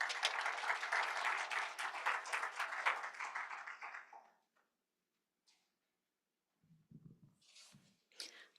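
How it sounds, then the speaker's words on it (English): Audience applause at a poetry month event, a dense burst of clapping for about four seconds that fades into near silence, followed by faint scattered shuffles and soft noises. "So please give her a round of applause."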